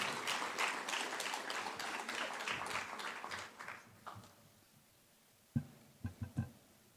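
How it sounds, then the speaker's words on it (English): An audience claps steadily in welcome as a speaker is called on stage at an education event, a dense sustained round that thins out after about four seconds, leaving a few scattered claps and handling knocks near the end. "With a very big round of applause, please help us welcome up on stage Dr. Ida Opoku-Mensah"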